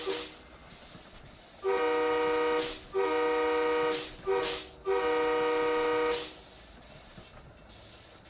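Several short horn toots from a Boston Sprinter locomotive in Train Sim World 2, sounding as separate bursts of a few seconds each with brief gaps, over a steady rumble of the train.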